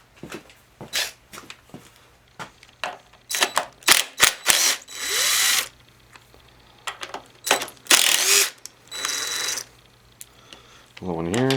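A ratchet wrench loosens an 8 mm bolt on the carburetor of a Craftsman push mower. Sharp, close clicks come in uneven bursts, and a voice is briefly heard near the end.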